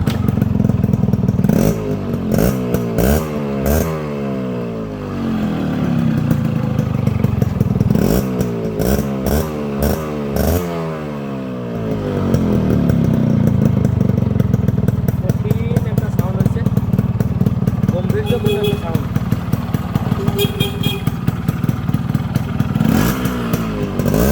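A Yamaha RX 100 motorcycle with its original silencer pipe idles and revs in repeated sharp bursts, close and loud, with someone talking over the engine.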